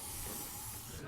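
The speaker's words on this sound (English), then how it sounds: "Now, if I take this can and give it a spray" An aerosol spray can releases one short, steady hiss that lasts about a second, faint and close, with no talking.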